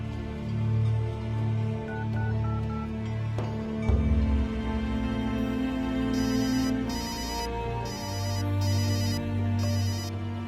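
A phone rings after a number is dialled, a repeating electronic ringtone cycling in steady bursts over a low background hum, with no talking.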